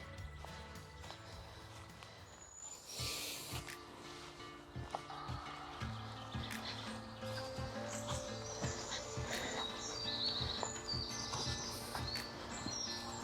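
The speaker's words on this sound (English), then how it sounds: "Listen to the birds." Birds chirp and sing in the background of an outdoor heathland scene at Aylesbeare Common, Devon, with scattered calls and some clopping or rustling sounds up close.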